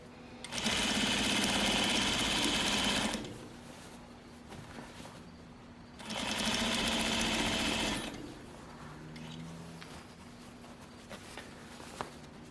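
A sewing machine stitches through pinned fabric in two loud, steady bursts, each lasting a couple of seconds, with a quieter stretch of handling noise between and after them and no talking.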